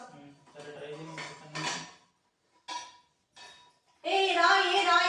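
Two metal bowls stuck together clank and scrape against each other in several bursts as they are pulled apart, ending in a loud ringing clatter, with brief pauses between efforts.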